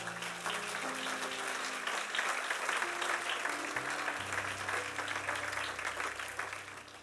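A church congregation applauding steadily during a worship service, dense clapping sustained throughout with instrumental music and organ tones underneath.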